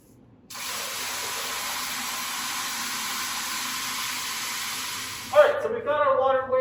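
Water sprays steadily from a shower-setting hose nozzle into a bucket while batching a 3–10 gallon pottery glaze, a loud continuous hiss that cuts off near the end, followed by a few brief clatters.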